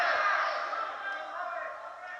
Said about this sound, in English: The crowd is very vocal here.